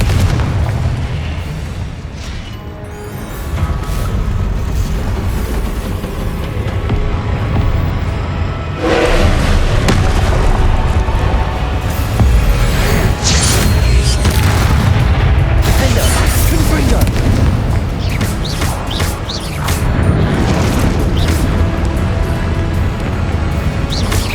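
Confringo blasting-curse explosions in Hogwarts Legacy, loud booming blasts among a dense battle din of other spell effects, with a voice shouting spell names over the fighting.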